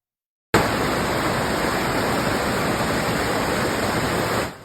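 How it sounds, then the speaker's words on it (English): Floodwaters rush along Rohrstown Road in Lancaster County in a loud, steady, hissing roar. It starts abruptly after a moment of silence, continues unbroken with no voices, then fades out at the end. "Take a listen to that. That is the sound of rushing floodwaters along Rohrstown Road in"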